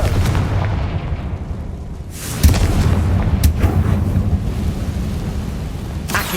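Confringo fire spell exploding in the Hogwarts Legacy video game on PS5, a loud booming blast over a steady rumbling background, with sharp bursts partway through and near the end.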